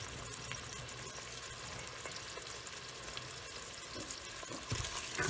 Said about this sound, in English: It's getting hot in there now. I hear it sizzling, so that's a good sign.